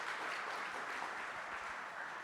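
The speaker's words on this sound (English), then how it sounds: "big round of applause for Zach" An audience at an event's opening remarks applauds, a dense, even wash of clapping heard from a distance, fairly faint and steady for a couple of seconds with no voices.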